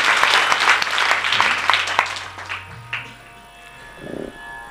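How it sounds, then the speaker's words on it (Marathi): A crowd at a devotional gathering claps loudly and densely for a couple of seconds, the applause then thinning out and fading to scattered claps and room noise. "टाळ्या वाजवा एकदा त्यांच्यासाठी"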